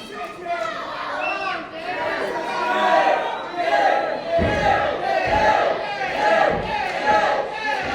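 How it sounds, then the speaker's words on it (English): A wrestling crowd at the White Hot Winter show roars and chants behind Jade during her match with Dash Dauntless, a loud, surging wall of voices with a commentator speaking over it. "listen to this crowd getting behind Jade"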